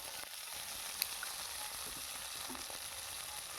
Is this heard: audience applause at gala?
no